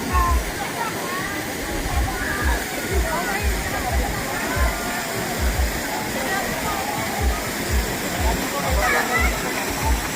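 A large waterfall in Bolinao, Pangasinan roars continuously and loudly, a broad rushing wash of falling water with a steady churning rumble, close by and filling the whole stretch, with people talking faintly underneath.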